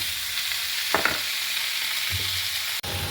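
Chicken and prawns fry in a pan for a Spanish paella with a continuous loud sizzle, close to the microphone, broken by a few soft scrapes of stirring.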